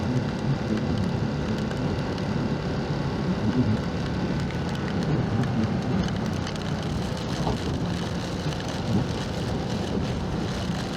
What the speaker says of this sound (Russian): Ау, это даже не просто дождь, это прям град какой-то.